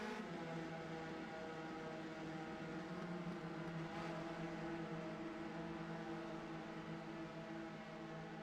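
Race cars drone around a Kentucky oval in a racing video game, engines whining steadily as they thread through lapped traffic, a continuous faint layered roar with no speech.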